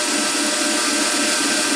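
A grinder hollow-grinding a knife blade after heat treatment, a loud, steady high-pitched abrasive hiss and whine held continuously for under two seconds, no talking.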